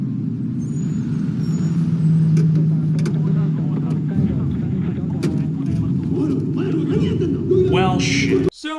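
A car in the film Godzilla (2014) rumbles along with a steady low engine drone, while voices and other film sounds play over it, and the scene cuts off sharply at the end.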